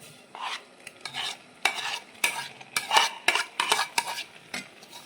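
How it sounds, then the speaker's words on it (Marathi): A spoon scrapes and stirs semolina into caramel shira in a hot pan, making rapid, irregular metallic scraping strokes close by with a light sizzle underneath. "आता हा आपला रवा यात मिक्स करायचा."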